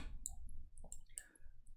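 A few soft, close computer mouse clicks during work in Cinema 4D, faint and quick against quiet room noise.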